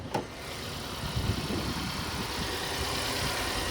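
Idling engine of a Genesis car, already warmed up, heard with the hood open: a steady, fairly loud low rumble that holds evenly throughout, with no talking over it.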